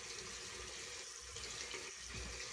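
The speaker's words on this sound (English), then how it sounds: "Get me a nice warm rinse here." Warm water running from a sink tap for a post-shave face rinse, a steady faint hiss of flowing water with no talking.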